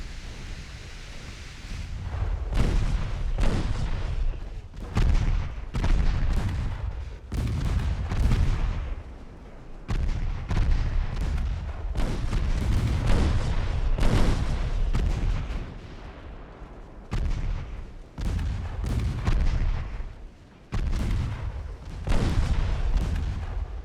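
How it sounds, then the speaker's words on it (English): Heavy naval main guns firing at a battleship in the Ultimate Admiral Dreadnoughts game, a continuous barrage of deep booming shots and rumbling impacts across the whole span, loud and dense with no talking. "All the main guns shooting at the battleship."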